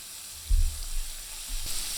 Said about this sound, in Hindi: सबसे पहले ऑयल डालेंगे, ऑयल में ही लहसुन डाल देंगे